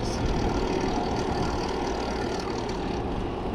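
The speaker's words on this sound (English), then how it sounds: "half the jockey wheel from the chain device has snapped off" A mountain bike's broken derailleur jockey wheel, half snapped off, rattles in a steady, loud mechanical buzz, rough and engine-like, with no pauses for the whole stretch.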